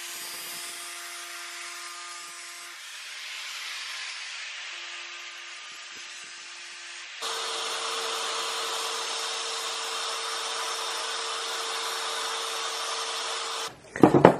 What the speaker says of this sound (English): I want to bevel the edge that is facing forward